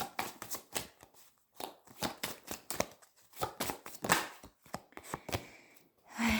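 Tarot cards are shuffled by hand in a rapid series of crisp, separate slaps and riffles, close and fairly quiet, with short pauses between bursts.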